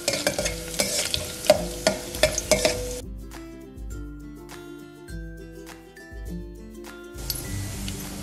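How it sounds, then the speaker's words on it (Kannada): Mustard seeds and cumin sizzle in hot oil with sharp crackles and the clink of a stirring spoon, loud for the first few seconds before giving way to a quieter, tonal background. "ಎಣ್ಣೆಗೆ ಸ್ವಲ್ಪ ಸಾಸಿವೆ ಜೀರಿಗೆ ಹಾಕೊಳ್ಳೋಣ."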